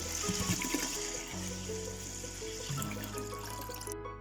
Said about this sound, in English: 1 liter of water is more added in this